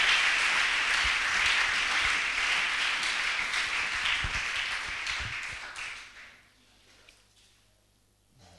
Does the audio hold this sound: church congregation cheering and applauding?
yes